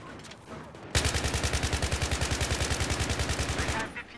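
A video game weapon fires one sustained automatic burst of about three seconds. The rapid shots come close and evenly paced, then stop abruptly.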